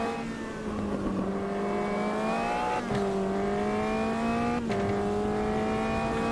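Caterham race car in the Automobilista 2 racing game, its engine droning loud and steady with two sharp gear-change dips as it runs through a difficult corner.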